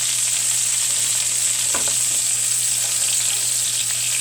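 Steaks searing in a cast iron pan while being basted with hot fat, a loud, dense, continuous sizzle with a brief scrape of the spoon partway through.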